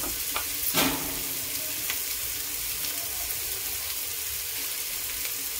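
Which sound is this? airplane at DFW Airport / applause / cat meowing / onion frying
onion frying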